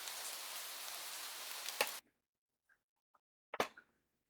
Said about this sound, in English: But in the middle of your walk, it starts to rain.